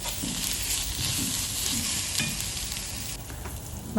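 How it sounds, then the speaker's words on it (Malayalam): Tomatoes sauté in masala in a pan with a dense, loud, continuous sizzle and occasional stirring scrapes, heard close with no voices. "തക്കാളി അതിലേക്ക് ചേർക്കും എന്നിട്ട് ആ മസാല എന്താ തക്കാളി സോഫ്റ്റ് ആവുന്ന വരെ സോട്ട് ചെയ്യുക"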